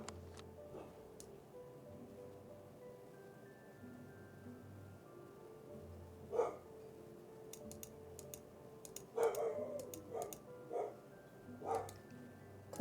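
A dog barks indoors, with a few sharp, scattered barks rising out of a quiet room, mixed with soft clicks of typing on a laptop keyboard.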